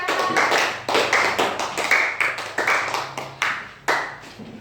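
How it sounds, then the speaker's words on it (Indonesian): A classroom group claps together for group 3 in a rhythmic, patterned cheer, crisp bursts of unison hand claps in a repeating sequence, close and fairly loud, with brief gaps between phrases. "Tepuk tangan untuk kelompok 3"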